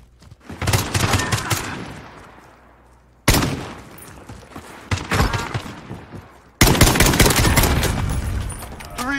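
Three loud, sharp gunshot bursts from sniper rifles in the video game Modern Warfare, spaced a few seconds apart. Each crack fades into a long echoing tail before the next, with no talking.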